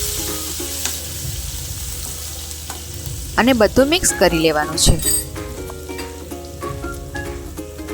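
Asafoetida, cumin, curry leaves and ginger-chili-garlic paste sizzle in hot oil as the tempering for Gujarati kadhi, a soft steady frying hiss with a few metallic clinks and a stirring burst, while someone talks over it.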